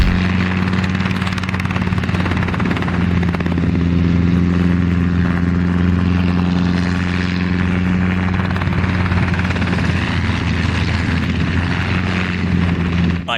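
Steady helicopter rotor and engine drone holds at a loud, close level throughout, with a low pulsing beat underneath and no voices.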